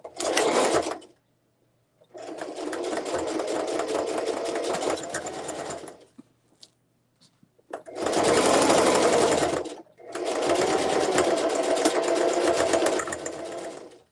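A sewing machine stitches over the strap of a zipper tote bag in four bursts of rapid, even whirring, loud and close, separated by short pauses, with faint handling noises between runs.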